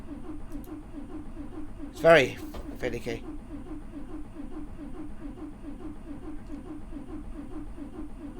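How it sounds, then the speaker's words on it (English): Starter cranking on an Ikarus 256.50 bus in the OMSI 2 driving simulator: a short, loud burst and a second weaker one over a steady low engine rumble, with someone talking. "But as you can hear, the starter sounds different"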